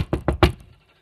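Four quick, loud knocks on a door land close together in a steady rhythm, then fade into silence.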